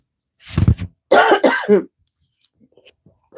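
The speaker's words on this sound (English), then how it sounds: "I just coughed all in y'all ear." A close, loud cough, then a harsher cough with throat clearing, followed by quiet.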